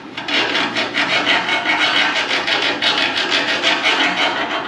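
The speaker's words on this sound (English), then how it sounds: "So what we're gonna do next is file these burrs off." Hand file rasping burrs off freshly cut metal edges during a swing-away boat trailer tongue hinge installation, a steady run of quick back-and-forth scraping strokes, close and fairly loud with no talking.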